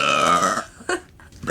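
A loud, deep, drawn-out burp from someone at a burping contest fills the first half-second, followed by quieter breathy sounds and a short second swell.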